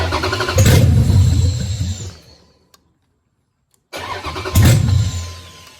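A 6.1 Hemi V8 running a FAST Fuel V1 and Hemi6 ignition controller cranks and fires into a loud, rough idle, dies to silence, then restarts and roars again, close by.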